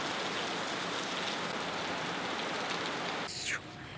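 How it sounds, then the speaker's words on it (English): Steady, dense rain falls during the rainy season, an even hiss that carries on unbroken before cutting off sharply just before the end. "it's starting to rain more and more"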